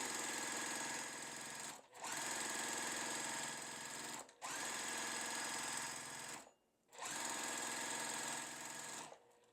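A sewing machine stitching quilt block pieces runs in loud, steady buzzing bursts, stopping briefly three times between seams before starting again, close up with no talk.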